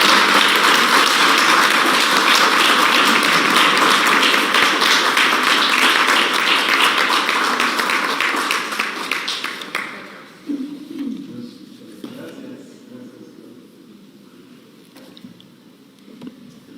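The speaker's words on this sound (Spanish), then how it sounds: "Aplauso, un fuerte aplauso." Sustained audience applause at a commemorative event for the International Day of Indigenous Peoples, loud and dense for about ten seconds before fading into scattered claps and room noise.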